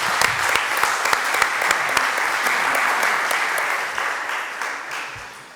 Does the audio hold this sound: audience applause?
yes